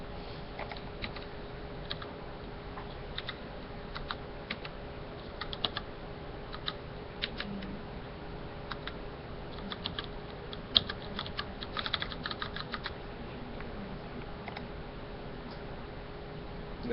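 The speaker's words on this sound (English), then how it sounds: "The keyboard is a bit quirky." Typing on a computer keyboard, a long run of light, irregular key clicks with occasional louder taps, steady and close over a faint background hum.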